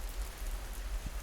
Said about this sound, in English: You hear them land on the fabric. And not a splash, but a soft, muffled pat.